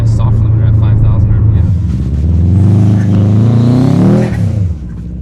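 Subaru WRX STI converted to rear-wheel drive, its engine revving hard into a 5,000 RPM soft limiter, pitch climbing and stuttering against the cap before dropping off, loud and close inside the car with a voice talking over it.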